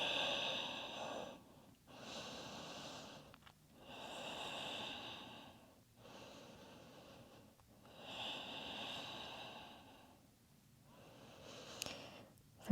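Slow, deep breathing during a yoga forward fold: long audible inhales and exhales in an even rhythm, close and quiet, with several breaths in a row.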